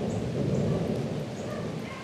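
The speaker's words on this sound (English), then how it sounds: "There's some good thunder." Thunder rolls in a steady, low rumble during a rainstorm, moderately loud and continuous, with no voices.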